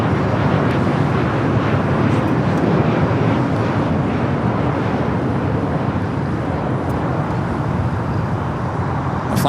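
A jet airliner at Los Angeles LAX airport, a roaring engine rumble that stays steady and loud for the whole stretch, broad and close with some wind buffeting.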